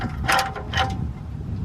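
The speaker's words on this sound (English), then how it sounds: "I'm going to use a gator grip with an extension, and then using a breaker bar." A ratcheting breaker bar with a gator grip socket and extension works on an exhaust bolt of a Miata NA, giving two quick close metallic ratchet clicks in a short burst.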